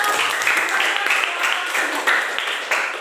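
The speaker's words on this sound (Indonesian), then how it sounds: "Tepuk tangan dulu" A classroom group claps together after a story lesson, a sustained patter of many hands with rhythmic pulses, loud and close, with voices mixed in.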